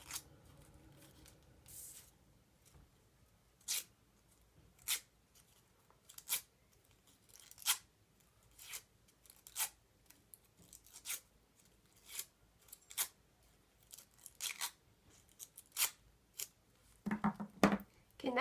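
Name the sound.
scissors edge curling paper flower petals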